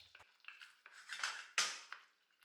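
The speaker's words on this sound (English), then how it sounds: "Just going to mix that into the sauce." Mustard stirred into a barbecue sauce for homemade baked beans, with a metal spoon clinking and scraping against the pot in quick irregular bursts, one louder scrape near the end, close and fairly quiet, no talking.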